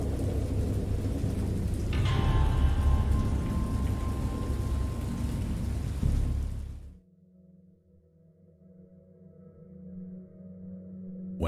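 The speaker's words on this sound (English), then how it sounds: "I know that I heard peals of thunder and other tones which nature utters" Loud rain and a rumbling thunderstorm with a heavy roll of thunder, steady downpour that abruptly cuts to a quieter low rumble and hum.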